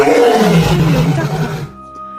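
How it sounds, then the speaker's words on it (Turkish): A lion's deep, loud roar swells and rumbles close by for well over a second, then cuts off into quiet; the lion is kept in an enclosure at the end of a dead-end street. "Orada aslan var."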